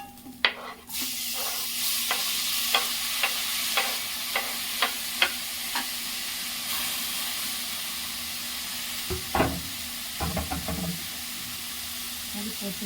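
Onions sautéing in a pan, a soft continuous hiss of frying with a run of regular spatula scrapes and taps, then quieter sizzling and a few clustered stirring knocks near the end.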